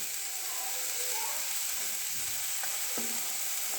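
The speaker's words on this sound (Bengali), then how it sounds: "দেখো এটা ফ্রাই করছি।" Sweet corn fries in a pan for chicken soup, giving a constant loud hiss of sizzling oil with a couple of soft scrapes and clicks near the end.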